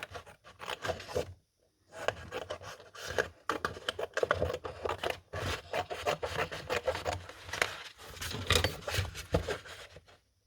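Scissors or a cutting tool work through an acetate binder cover in a run of close, rasping strokes, with short pauses between bursts of plastic scraping and crinkling.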